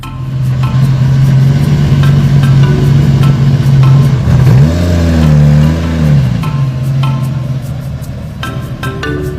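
A 1966 Lamborghini Miura, the original mid-engined rear-drive supercar, idles with a loud steady drone, then revs up and back down around the middle before settling into its idle again.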